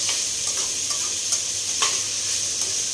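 Cauliflower frying in a pan gives a steady, close sizzle throughout, with faint scattered ticks and scrapes from stirring and no voices.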